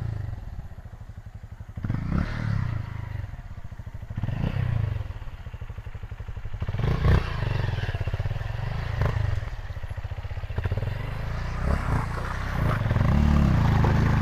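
A motorcycle rides along a muddy, slippery road that has become a ditch, its engine droning and rising in bursts with clattering, thudding and scraping from the rough ground.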